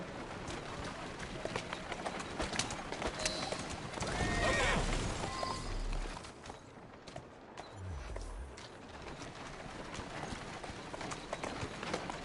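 A horse whinnies loudly in the middle, surrounded by steady hoofbeats clip-clopping and a busy background of movement, in the video game Assassin's Creed Syndicate.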